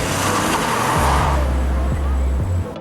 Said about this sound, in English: Smooth work on the gas pedal allows the car to kick in the thrust.